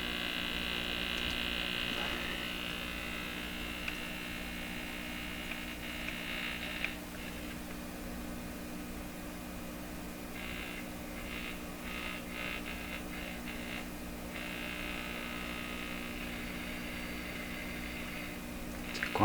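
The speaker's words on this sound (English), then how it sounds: "It's quiet, but it sounds like a radio to me." Stewart Warner R514 tube radio with an open resistor, tuned low on the band, playing faintly beneath a steady mains hum and hiss, with a few fluttering bursts of tone drifting in and out.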